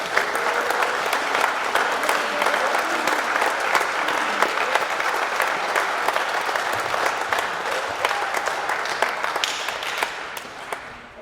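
Sustained applause from a large audience at a school underclassmen awards ceremony, loud, dense clapping that runs steadily for several seconds and then fades near the end, with no talking over it.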